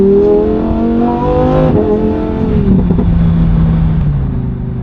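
A 640 hp V10 car engine revs in sport mode with exhaust valves open, a loud deep rising and falling roar heard from close by, nobody talking.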